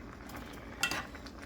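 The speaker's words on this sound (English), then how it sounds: "once they start boiling hard like that, you just want to constantly keep stirring, keep mixing them juices around" Candied jalapeños for cowboy candy bubble hard in a pot on the stove, a quiet sizzle under which a spoon scrapes and stirs once with a brief louder clatter.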